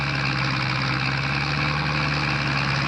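A tractor engine idles steadily in the Farming Simulator video game, a continuous low droning rumble with a constant pitch, loud and close, with no talk.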